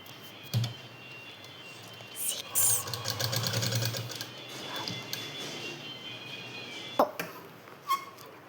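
Sewing machine stitching around a blouse cut from a T-shirt, with short bursts of rapid mechanical whirring and clicking separated by pauses, fairly close and moderately loud.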